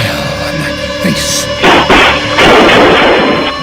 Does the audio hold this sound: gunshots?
yes